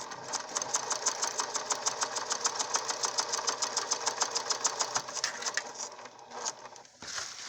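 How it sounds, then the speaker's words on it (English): A sewing machine stitching across a nose enclosure, rapid even mechanical chatter running steadily for several seconds, close and clear, then slowing and stopping near the end. "I'm going to sew all the way across."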